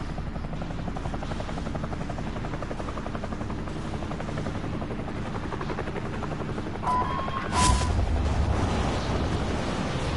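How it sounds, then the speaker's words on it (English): A helicopter in Call of Duty Warzone gives off a loud, continuous rotor thrum that fills the whole stretch, with a brief sharp burst near the end. "Are we just getting in the helicopter and leaving?"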